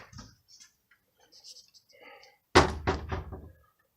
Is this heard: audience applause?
no